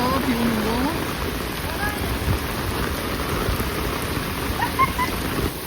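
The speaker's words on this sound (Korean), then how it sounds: "비 오는 거." Heavy storm rain pouring in Fukuoka, a loud dense continuous roar close by with a low rumbling undertone, while people talk faintly beneath it.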